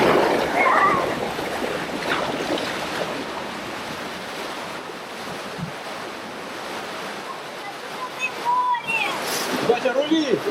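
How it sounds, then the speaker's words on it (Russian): Water rushes and splashes steadily on a rapids river ride at a Dubai water park, with wind buffeting the microphone and voices talking and calling out over the churning flow. "Бурная река, пороги."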